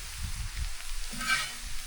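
Soft, steady sizzling of garlic and mushrooms frying in a small pan, with quiet low bumps from stirring.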